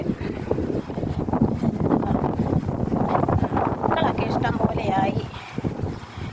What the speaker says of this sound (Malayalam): കാറ്റൊക്കെ നല്ല ഭയങ്കര കാറ്റ്